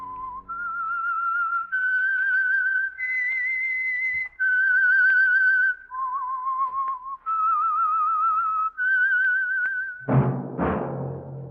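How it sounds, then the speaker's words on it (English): A lone human whistler carries a slow, eerie melody of sustained notes with slight vibrato, the signature theme of the radio drama The Whistler, ending in a brief burst of other sound. "That whistle is your signal for the Signal Oil program, The Whistler."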